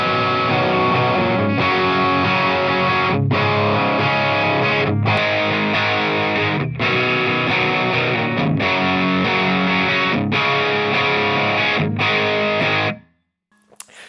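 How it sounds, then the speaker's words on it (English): Electric guitar played through a Fender Champion II 50 amp with heavy distortion, loud sustained chords in steady repeated phrases with brief gaps between, cutting off abruptly near the end. "I was actually impressed by the distortion tones"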